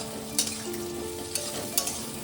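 Potatoes and onion frying together in a pan for beans aloo posto, a close steady sizzle with three quick sharp spatula scrapes spread across a brief moment, no voices.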